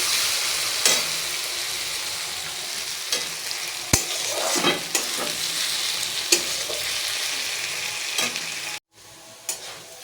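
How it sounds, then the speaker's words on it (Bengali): Potatoes sizzle steadily in a hot pan while a spatula scrapes and stirs them every second or so, loud and close with no talking. "আলু ভাজাটা মোটামুটি অনেকটাই ভাজা হয়ে গেছে দেখো"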